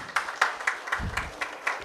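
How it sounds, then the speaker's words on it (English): Audience applause at a GST reform event for a chamber of commerce foundation day, a small group clapping in distinct, fairly regular sharp claps, close and moderately loud. "a big round of applause for all of you"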